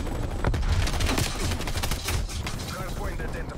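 Rapid gunfire and explosions rattle in a Black Ops Cold War match, a dense, loud burst of shots and blasts with faint talk mixed in.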